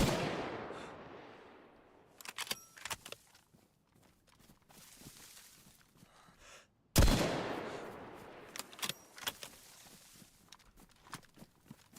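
AK rifle gunfire in the DayZ survival game: a few sharp shots ring out at a distance, including one loud report with a long echoing tail, separated by quieter scattered cracks.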